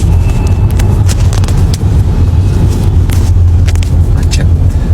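Loud, dense road traffic in a jam, with a steady close engine rumble and scattered higher noises from surrounding vehicles throughout.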